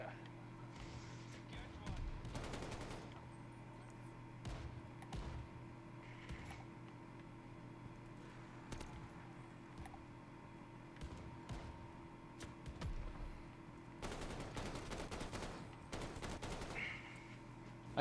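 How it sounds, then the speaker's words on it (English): Gunfire in the Call of Duty Vanguard Zombies game, a glitched pack-a-punch weapon firing plain gun shots in sharp bursts, heavy near 2.5 seconds and again near 14 to 16 seconds, over steady game noise with people talking throughout. "It just sounds like a gun."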